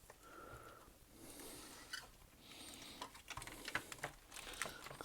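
Typing on a Tesla PMD 85 computer keyboard: faint, irregular clicks and key taps close up, growing busier toward the end, with quiet room noise between presses.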